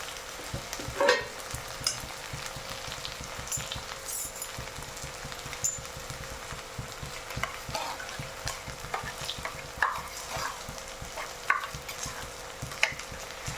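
Continuous close sizzling of eggplant sautéing in a pan, with irregular clinks and scrapes from stirring throughout; no voices.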